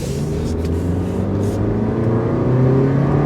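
A small car at full throttle, its engine droning in a steady, strengthening rising tone that builds loud and close throughout, with no talking.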